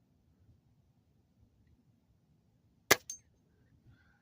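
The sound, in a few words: Weihrauch air rifle pellet shot at a spinner target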